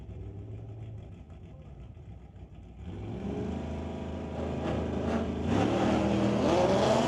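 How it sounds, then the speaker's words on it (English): A 1978 Corvette and a 2016 Ford Mustang drag racing at a street-legal night at a raceway park, engines idling and then roaring louder as they accelerate, with a steady, building mechanical drone. "Jimmy Sousa back up here in the 78 Corvette, taking on Paul Gibbs in that 2016 Ford Mustang."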